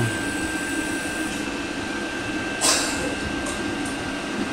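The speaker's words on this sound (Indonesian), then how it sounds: "setelah terpasang kompornya kita tes nyala untuk mesin boilernya" A diesel-fired water boiler burner running during a test after its nozzle was cleaned, giving a steady, continuous roar and hum with a constant tone, one brief louder burst partway through.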